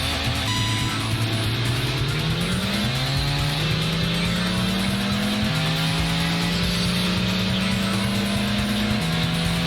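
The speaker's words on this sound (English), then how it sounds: "Oh, the engine sounds different." Engine of a car in the Racing Lagoon video game, a steady synthesized drone that climbs in pitch through several stepped gear changes, loud and continuous over a bright hissing backdrop, with no voices.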